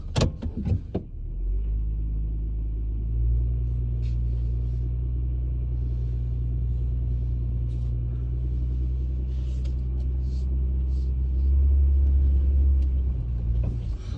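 A Honda Ridgeline pickup cruises in normal drive, its engine a steady low rumble with road noise heard from inside the cab, swelling slightly near the end.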